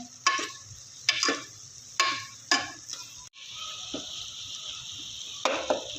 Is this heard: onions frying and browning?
yes